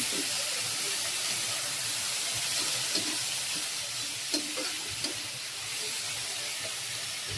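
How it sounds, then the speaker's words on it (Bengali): Pointed gourd peels fry in a pan with a steady, close hiss and sizzle, broken by a few soft scrapes of stirring. "এখন এটাকে একটু আর একটু ভাজবো।"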